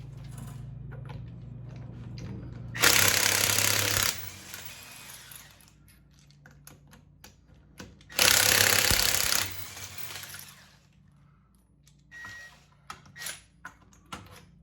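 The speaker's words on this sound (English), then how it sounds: "We got our trusty Harbor Freight impact wrench that works just amazing for the money." A Harbor Freight impact wrench zips lug nuts off a 2012 Ram 1500 4x4 wheel in two loud hammering bursts of about a second each, separated by quieter clinks and handling noises.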